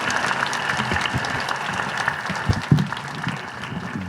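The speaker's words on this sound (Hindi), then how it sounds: "तालियां, जोरदार तालियों के साथ स्वागत।" Crowd applause at a political rally, dense clapping from many hands sustained at a fairly even level, with a couple of louder nearby claps and a faint voice in the background.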